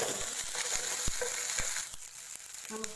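Ginger, garlic and green chilli paste frying with curry leaves and cumin in a pan for batata vada, a continuous close sizzle broken by irregular stirring knocks and scrapes, no voices.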